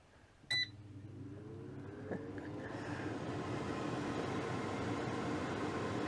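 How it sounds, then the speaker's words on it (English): A single short beep, then an air fryer set to 180 degrees whirs up to a steady, loud fan hum that keeps running without letting up. "Now that noise is the air fryer."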